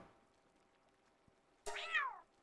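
A cat creature in the video game Palworld gives a single short, clear meow that falls in pitch, rising sharply out of a quiet background.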